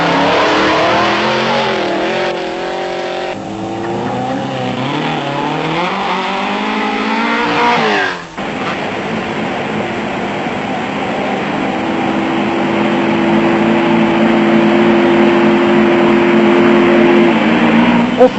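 Off-road racing cars roar away at the start of the Toyota 1000 off-road race, engines loud and revving hard with shifting pitch, then a steady close engine drone with a sustained whine.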